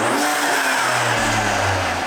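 A BMW G80 M3/M4 with the S58 engine and a titanium intake, loud engine roar and induction noise revving steadily throughout, close and alone with no talk.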